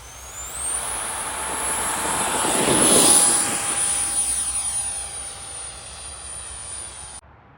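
A large radio-controlled F-35B model jet makes a flyby, a turbine whine that swells as it nears, peaks loudly at about three seconds, then fades away as it recedes, with a high steady tone above the rush.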